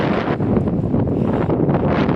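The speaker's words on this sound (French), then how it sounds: "Il y a beaucoup de vent là." Strong wind buffets the microphone beside a lake, a loud, continuous low rumble with gusty surges and no voices.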